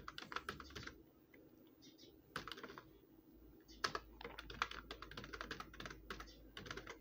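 Typing on a computer keyboard while entering comma-separated values into Notepad, with bursts of close, crisp key clicks and short pauses between runs of keystrokes, no voice.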